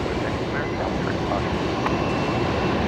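A Qantas airliner on runway 19 left at Brisbane Airport, a steady broad engine roar close by, with a voice talking over it.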